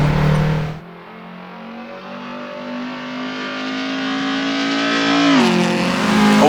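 Race car in Assetto Corsa on a bumpy Pescara circuit, with a loud close engine that drops on a gear change, then climbs steadily in pitch through a long pull before shifting again and revving on.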